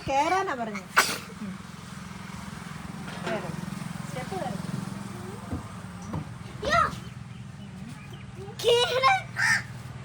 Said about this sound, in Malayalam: തുമ്മുവാണോ?